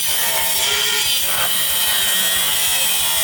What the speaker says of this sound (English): I sanded it off and just restoring it real quick here.